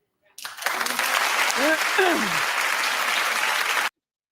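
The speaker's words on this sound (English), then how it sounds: "Clap if you think that they need to say something." A crowd claps steadily and loudly for several seconds, with a few whoops and cheers rising above the applause before it cuts off.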